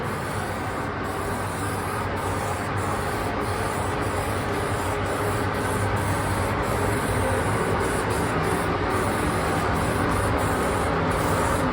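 A continuous close-up hiss of sealer being sprayed onto raw plastic of a kids' ride-on toy carries on evenly and loudly throughout, with no pauses or voices.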